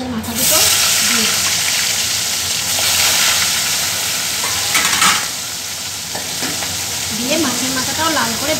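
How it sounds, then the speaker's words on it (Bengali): Two fish heads fry in hot oil, a loud, dense sizzle and hiss running throughout with a few louder spatters, while a voice talks softly in the background. "দিয়ে মাছের মাথাটাও লাল করে ভেজে নেব"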